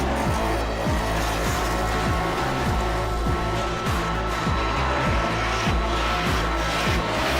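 Street racing cars, tuned Honda Civics, drift around Osaka's Kanjo loop in Japan, a steady loud engine roar with rhythmic low rumbling pulses running continuously throughout.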